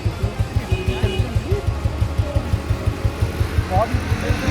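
Restored Royal Enfield Standard motorcycle engine running steadily nearby, a low, even thumping beat with regular pulses throughout, while voices talk over it.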